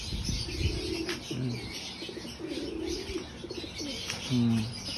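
Racing pigeons coo in low repeated bursts near a loft after returning from a training flight, with faint rustling and soft chirps between the calls.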